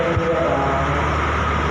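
A Thai express train, the black-liveried number 636, stands at a station waiting to be passed, giving off a steady low rumble and hum that fills the short clip.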